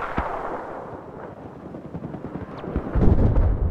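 Battlefield 4 gunfire on the Flood Zone map: rapid close-range shots and bursts crackle amid rumbling battle noise, growing louder and denser toward the end.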